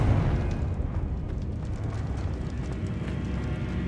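Confringo blasting spell going off in the Hogwarts Legacy video game, a loud, dense explosive rumble heavy in the low end that holds steady for several seconds.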